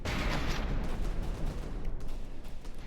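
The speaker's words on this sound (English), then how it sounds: "hell is funny to watch 16 pounder cannons fight in the Rumble" 16-pounder cannons firing in a naval video game battle, a dense rolling barrage of booming blasts that overlap into a continuous rumbling roar, loud throughout with no talk.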